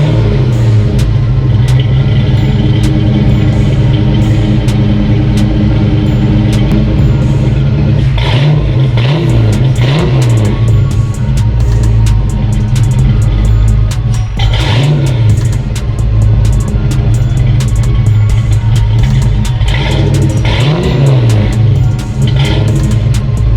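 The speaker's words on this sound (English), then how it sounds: "So let's get a cold start." Car engine after a cold start, idling loud and close with a rough, rumbling tone and several rising revs and blips spaced through the stretch.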